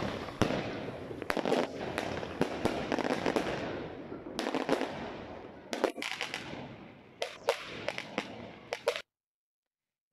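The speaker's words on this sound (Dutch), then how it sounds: "er werd wel vuurwerk afgestoken, zoals op deze beeld te zien is vanuit de Overijsselslaan" New Year's Eve fireworks going off along the Overijsselslaan, a dense run of sharp bangs and crackling bursts, some close and loud, over a steady hiss of distant explosions, ending in brief silence.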